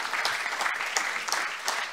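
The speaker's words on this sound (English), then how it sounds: "Let's give Luke and Heather a round of applause for this great networking event." Audience applause at a Rotary club vocational networking event, a steady wash of many hands clapping that fills the room for the full two seconds with no voices over it.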